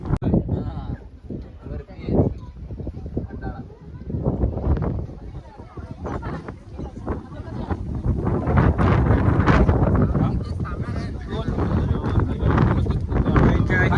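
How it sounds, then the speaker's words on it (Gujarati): Cold wind buffets the microphone in a steady low roar on a hilltop at Mahabaleshwar after dark, swelling louder toward the end, with voices talking beneath it. "बहुत ठंडा पवन आ रहा है"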